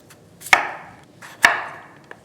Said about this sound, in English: we're going to cut them into big chunks